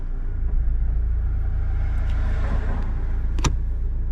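A 2001–2005 Honda Civic with an automatic transmission idles steadily with a low continuous rumble while the selector is moved through reverse, neutral and drive, with a couple of sharp clicks near the end.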